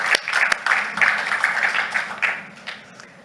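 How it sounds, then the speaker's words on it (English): Audience applause after speakers at a mining industry outlook panel, a dense burst of many hands clapping in a hall that swells, holds steady, then thins and fades toward the end. "big round of applause"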